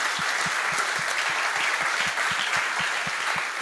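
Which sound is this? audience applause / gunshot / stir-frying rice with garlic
audience applause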